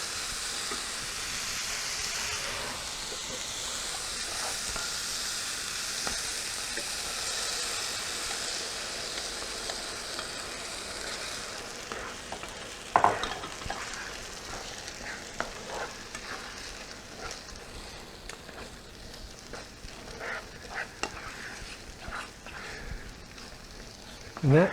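Rehydrated freeze-dried eggs and ham fry in a pan with a continuous hissing sizzle. Occasional scraping stirs and clinks break it up, close by, and the sizzle eases partway through.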